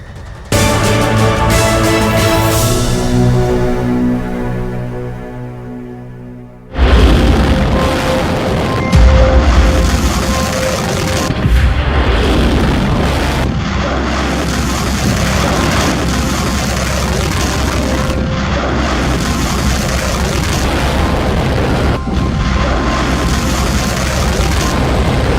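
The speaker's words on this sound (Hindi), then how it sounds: "जब ईरान की ये मिसाइल फायर की जाती है तो तस्वीरें ऐसी होती हैं।" An Iranian missile launch erupts in a deep, heavy boom after a steady tonal passage, then rolls on as a loud, sustained rumbling roar that stays dense and powerful to the end.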